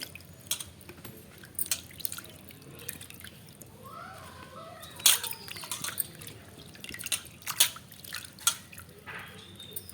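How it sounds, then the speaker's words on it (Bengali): Pieces of young jackfruit being washed by hand in water, giving scattered soft drips, splashes and sloshing bursts at close range over a quiet background, with no talking. "এইভাবে ভালো করে এঁচড়গুলো আমি ধুয়ে নেব।"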